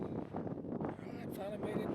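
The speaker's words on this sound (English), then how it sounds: "it was pretty windy that day, so it was kind of hard to hear" Strong wind buffets the microphone on a mountain summit at Peak 8040 in Guadalupe Mountains National Park, a steady loud roar and rumble lasting throughout, with a voice partly buried beneath it.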